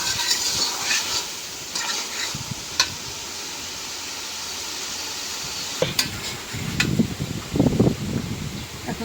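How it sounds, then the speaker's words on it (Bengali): Potatoes sautéed with spices in a pan, giving a steady soft sizzle broken by scraping stirs, louder and busier toward the end, with no talking. "মশলার সাথে আলুটা একটু কষাই নিই।"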